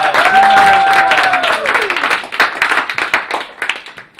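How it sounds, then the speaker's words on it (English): Audience applause at a startup pitch event, dense clapping from a room full of people that gradually thins into scattered claps, with a voice and sustained tones briefly heard over it at the start. "So big round of applause!"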